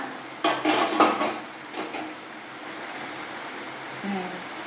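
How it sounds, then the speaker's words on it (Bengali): A metal lid is lifted off a pot of boiling duck eggs with a brief close clatter and scrape, then steady soft boiling hiss, with light kitchen noise near the end. "এবার ঢাকা খুলে দেখি সেদ্ধ হয়েছে কিনা।"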